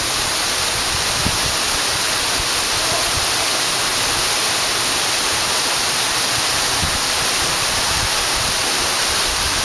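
Steady, dense roar of an 80-foot waterfall in a San Salvador rainforest, a constant broadband rush of falling water filling the scene without pause or voices.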